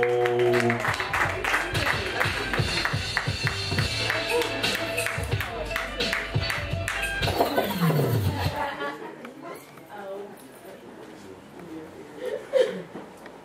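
Audience at a poetry event clapping hands, a dense burst of applause that tapers off after several seconds into quieter room noise with a brief murmur of voices near the end.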